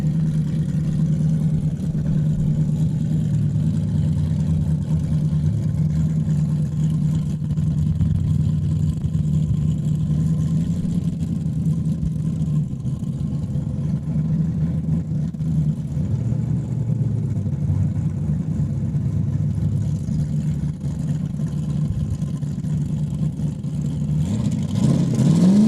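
An S10 race truck's engine drones and revs on a Saskatchewan raceway track, holding a loud, steady mid-pitched roar for the whole stretch with small swells in throttle, close and continuous.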